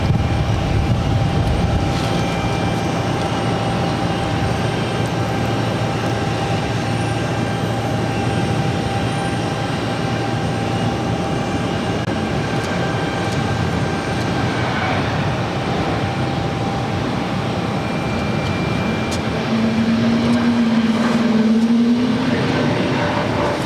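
A heavy jet rolls down the runway for takeoff at Boston Logan, a steady, far-off broadband roar that holds for the whole stretch and swells a little toward the end.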